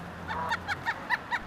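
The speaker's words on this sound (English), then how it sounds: "these geese sitting in the frozen fog down along the Bow River" Geese sitting in frozen fog along the Bow River honk in a series of about six nasal calls, fairly close, over a soft background hiss.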